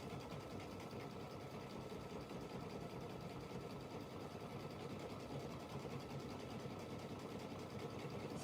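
Embroidery sewing machine stitching a centre spiral in a sewing room, a steady continuous mechanical whirr and rapid needle chatter running unbroken and fairly close throughout.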